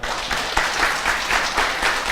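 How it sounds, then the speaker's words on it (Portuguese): Audience applause at the close of a lecture on international accounting standards (IFRS) for a union gathering, a steady, dense wash of many hands clapping that holds evenly throughout without voices. "vamos dar uma salva de palmas."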